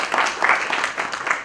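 Studio audience applause welcoming two sports guests on stage, a steady dense wash of clapping with a few louder swells throughout.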